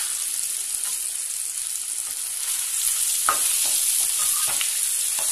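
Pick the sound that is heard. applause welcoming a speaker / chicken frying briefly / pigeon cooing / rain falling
chicken frying briefly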